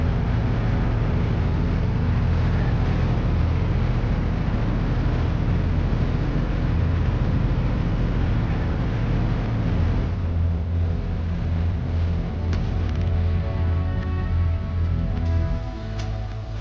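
Steady low engine drone and wash of a passenger boat cruising across a backwater lake toward Muhamma jetty in Kerala, continuous and close, with wind rushing over it and easing slightly near the end.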